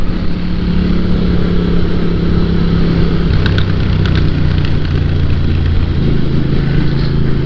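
A Moto Guzzi V7 motorcycle under way, its engine a steady, loud low drone with a rumbling pulse that holds throughout, mixed with road and wind rush.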